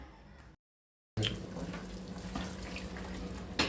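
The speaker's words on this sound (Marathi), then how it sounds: "जितकं आपल्याला पातळ जाड हवं आहे त्याप्रमाणे पाणी टाकून घ्यायचं" Water poured into a pan of Malvani-style chicken curry, a steady running splash after a short silent gap, close and moderately loud with no talking.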